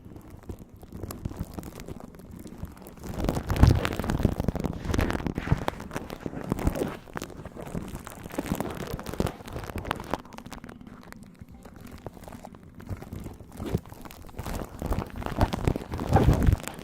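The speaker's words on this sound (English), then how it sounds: "that's the sound of a spoon on the mic" A spoon rubs and scrapes directly against the microphone in an ASMR session, producing close, rough crackling friction in uneven strokes.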